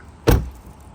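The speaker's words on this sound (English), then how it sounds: "when I close the passenger door, it actually has a rattle to it" A Tesla Model 3 passenger door slams once with a sharp, close thud and a brief rattling tail, with no talk.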